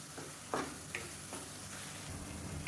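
Mint, coriander and green chilies sauté in a pan with a quiet, steady sizzle, broken by a few soft scraping clicks as the mixture is stirred.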